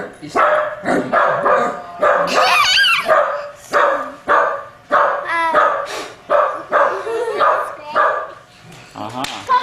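A dog barks repeatedly in quick bursts, loud and close, with some whiny yips mixed in.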